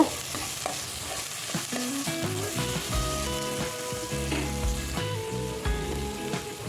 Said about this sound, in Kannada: ಈ ಟೈಮ್ನಲ್ಲೇ ಸ್ವಲ್ಪ ಟೊಮೆಟೊ ಇಟ್ಕೊಂಡಿದ್ವಲ್ಲ ಹಾಗೆ ಅದನ್ನು ಕೂಡ ಹಾಕ್ಕೊಂಡು ಚೆನ್ನಾಗಿ ಫ್ರೈ ಮಾಡಬೇಕು